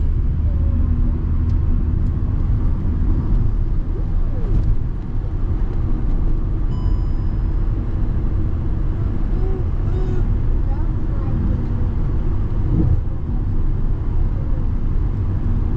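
An overloaded car engine strains up a steep hill on a road trip between Buxar and Rewa, a loud, continuous low drone mixed with road noise throughout, with voices talking over it.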